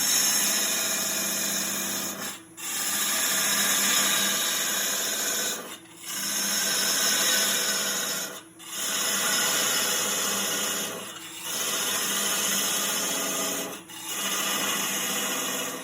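Wood lathe parting off the tenon of a turned wooden mortar and pestle, a steady loud rasping, scraping cut with several brief dips as the tool pauses, no talking.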